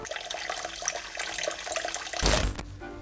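Liquid splashing outdoors in snow and falling sleet, a person urinating: a close, steady trickling stream running for a couple of seconds, ending in a louder splattering burst before fading.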